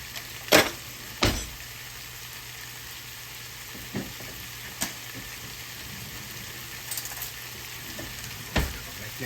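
Tomato paste frying in a pot, a steady close sizzle interrupted by several sharp stirring scrapes and clacks at irregular intervals, with no one talking.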